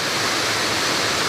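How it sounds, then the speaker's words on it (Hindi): A mountain waterfall feeding a village water supply roars steadily and loudly nearby, a dense continuous rush of falling water with no other sounds. "झरना भी कह सकते हैं, ये दोस्तों हमारा जल स्रोत आ चुका है।"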